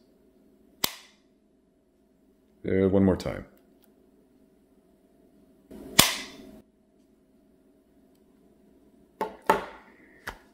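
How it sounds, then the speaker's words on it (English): An AirPods Pro charging case snaps shut several times, each a sharp, isolated click with near-silence between, and a short spoken phrase in the middle. "for those of you interested or curious on that famous snapping of the case, here's the sound for you"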